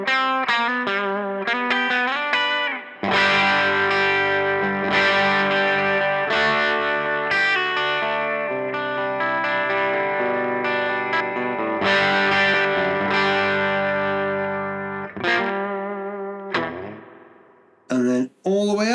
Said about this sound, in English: the reason the reverb on this amp sounds springy, as I explained, is because it is actually a spring reverb